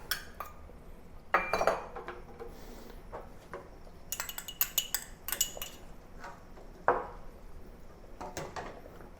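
Ingredients such as salted plums, ginger and garlic go into a soup pot with pork ribs, bringing several clinks and knocks of utensils against cookware, some brief and sharp, others scraping, in a quiet kitchen.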